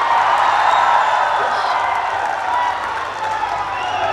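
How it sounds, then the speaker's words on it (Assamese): Audience at a live Bihu music performance at a wedding reception claps loudly and steadily, a dense continuous wash of applause with crowd noise throughout. "জোৰকৈ হাত চাপৰি বজাই দিয়ক"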